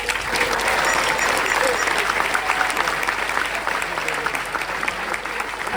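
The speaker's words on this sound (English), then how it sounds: "Please give him a round of applause." An audience at a Hawaiian shirt competition ceremony during a festival gives a round of applause, a steady, full crowd clapping that holds at an even level throughout.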